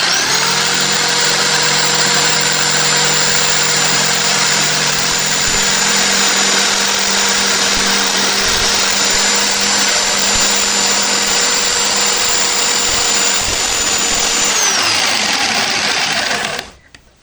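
A used electric jigsaw runs loud and steady at close range through a long cut, its high motor whine sustained without pause before it winds down and stops near the end.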